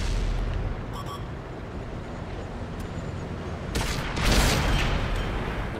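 Over a constant rumbling background in World of Tanks, a loud booming tank cannon blast erupts near the end, followed by a crackling burst.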